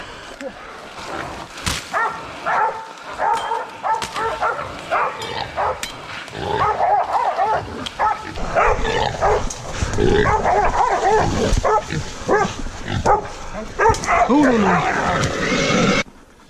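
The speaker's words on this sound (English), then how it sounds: "Nice boar the dog's just got." Hunting dog baying at a wild boar outdoors, with the boar's grunting and squealing mixed into a dense, continuous commotion of animal calls while someone talks over it.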